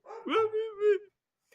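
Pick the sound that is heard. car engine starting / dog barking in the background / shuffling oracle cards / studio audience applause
dog barking in the background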